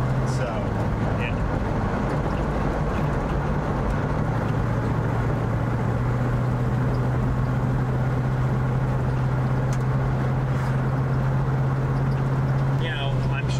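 A Mustang Mach 1 engine hidden for 40 years idles and drives with a steady loud low drone and hum. Someone talks over the continuous noise.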